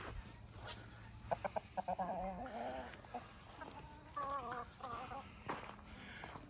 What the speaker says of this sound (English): There's chickens over there